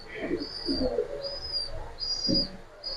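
Pankhi racer pigeons coo in repeated low, throaty phrases up close, over a faint background murmur.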